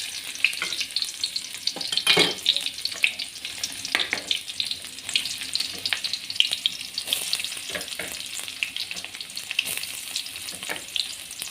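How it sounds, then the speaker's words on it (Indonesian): Ingredients for a Betawi oncom leunca dish sauté in a hot pan with a steady, crackling sizzle, punctuated by a few sharper scrapes and clatters as they are stirred, close and without voices. "Kita tumis-tumis sampai harum"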